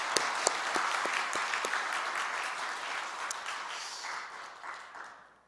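A church congregation applauds during a Friday prayer meeting, steady full applause with a few sharp claps standing out, gradually thinning and fading out over about five seconds.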